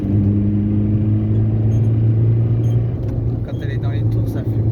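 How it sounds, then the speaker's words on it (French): A diesel VW Golf 3 TD engine revs steadily while downshifting and accelerating, a loud continuous droning hum that eases slightly partway through, with someone speaking over it. "Et là tu vois quand je rétrograde et que j'accélère,"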